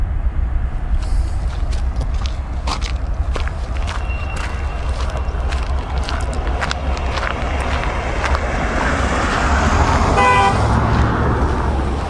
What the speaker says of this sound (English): Got honked at.